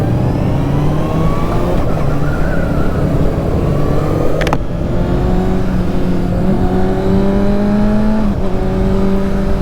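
Kawasaki Ninja ZX-6R motorcycle accelerating hard, a loud, close, continuous rising engine whine broken by quick-shifter upshifts with brief dips in pitch before climbing again.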